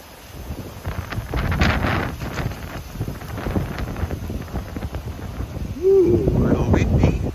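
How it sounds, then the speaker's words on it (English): Gusty wind buffeting a handheld microphone outdoors, with broadband rumbling noise rising and falling throughout and a louder surge near the end; faint voices are partly heard under the wind. "Ooh, a little windy."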